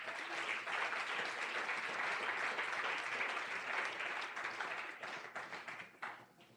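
Sustained applause from a large church congregation, dense and steady, tapering into scattered claps near the end.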